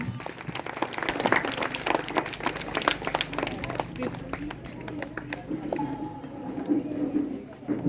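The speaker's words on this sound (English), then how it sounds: "Please give a big hand of applause for him." An audience at a school annual prize distribution ceremony claps for an award winner, a moderately quiet spatter of scattered hand claps that comes in bursts with some voices mixed in.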